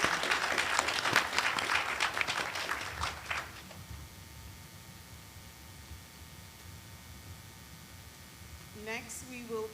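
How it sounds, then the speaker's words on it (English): Audience applause at a Caribbean anti-trafficking committee event of the Female Development World Organization: a dense burst of clapping for about three seconds, then fading to a quiet room hush before a voice briefly speaks at the end. "give a round of applause for all the BSO team that is represented"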